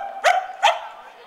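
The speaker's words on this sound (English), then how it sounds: "then once again he started barking" A dog barks twice in quick succession, close and loud, with short bright yelps and no talking over them.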